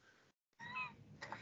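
A house cat meows once, a short nasal cry close to the microphone after a brief gap in faint background noise.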